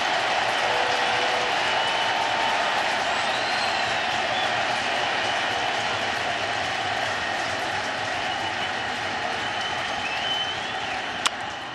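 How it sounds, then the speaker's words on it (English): Citi Field baseball crowd during a Mets–Phillies NLDS Game 3, a sustained loud roar and cheer filling the whole stretch at steady level, with a brief sharp peak near the end. "And here comes the Citi Field crowd."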